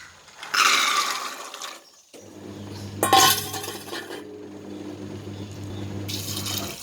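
Water pours in two splashing bursts into a pot of black chickpea curry, with a low steady hum underneath and faint clinks between pours.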